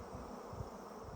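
Honeybees in an open hive laden with pollen, a faint, steady close buzzing hum with no pause.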